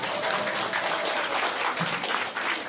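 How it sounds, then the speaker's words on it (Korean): Applause from a lecture audience during a public education talk, a dense, steady wash of many hands clapping at even loudness throughout, with no voices over it. "이럴 때 박수 한번 쳐주세요."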